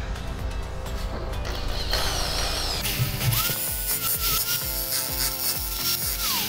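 A power drill bores into a home wall, giving a loud, steady grinding whir with rattling mechanical scraping and a rising motor whine partway through.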